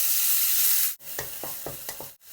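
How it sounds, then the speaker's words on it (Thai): Thai curry paste being stir-fried in hot oil with pork, a steady sizzle broken by several scraping stirs of a spatula in the pan, close and clear with no talk. "ผัดคั่วพริกแกงให้หอมก่อน หยดน้ำเปล่าลงไปนิดนึงครับ"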